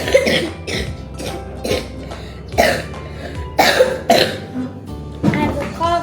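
A child coughs repeatedly at close range in a series of sharp, separate bursts spread across several seconds, with brief pauses between them.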